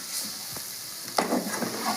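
Fried potato pieces tumble into a pan of amaranth greens, a soft sizzle giving way to a sudden clatter and scraping as they land and get stirred in, with no talking.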